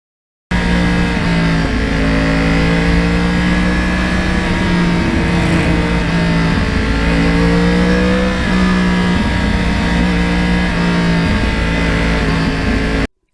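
A Yamaha R1 crossplane-crank sport motorcycle engine runs steadily while being ridden, its loud, continuous growl rising and falling in pitch with gear changes for over twelve seconds, with no voices.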